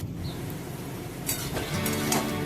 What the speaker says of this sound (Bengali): হাফ চামচ মতন হলুদও মিশিয়ে নিলাম। একটু নাড়াচাড়া করে নিচ্ছি।